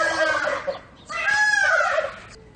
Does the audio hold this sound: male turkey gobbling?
yes